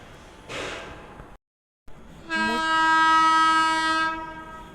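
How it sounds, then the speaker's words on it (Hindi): At Sahibabad, another train passes a stopped passenger train, sounding a long, loud horn over the rumble of its approach, preceded by a brief noisy burst and a short silent gap. "भाई पीछे से एक और ट्रेन आ रही है"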